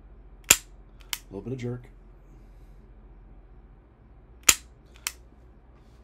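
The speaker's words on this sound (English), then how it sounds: "just press the 12-pound double action trigger quickly, with using both hands to grip the gun" Dry-fire clicks of a double-action pistol with a 12-pound trigger, two pairs of sharp, isolated snaps separated by a few seconds of quiet, with a short spoken phrase between them.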